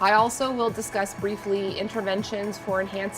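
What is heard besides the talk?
No everyday noises stand out.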